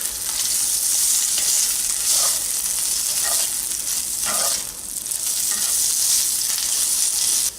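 Pulled pork sizzling and frying in hot oil as it is stirred around the pan, a steady loud crackling hiss with scraping stir strokes, no talking.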